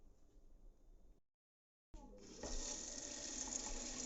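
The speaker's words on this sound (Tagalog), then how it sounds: "Lagyan natin ng tubig yung punla natin sili para madaling hugutin ba." Water is poured onto soil around potted pepper seedlings in a garden, a steady splashing gush that starts after a short silence and continues loudly.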